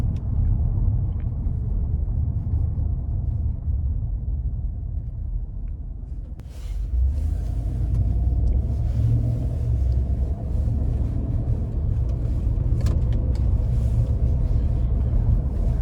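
Engine of a 2013 Cadillac Escalade Platinum on a test drive, heard from inside as a steady low rumble with road noise that grows slightly fuller after a brief dip, continuous and without talk.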